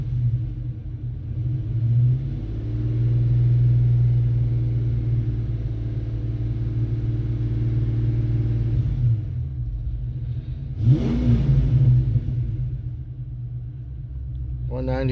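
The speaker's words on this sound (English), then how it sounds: "We'll run her up a little bit in the RPM." A car engine fitted with Pro M Racing EFI idles with a steady, low, close rumble, then revs up briefly near the end.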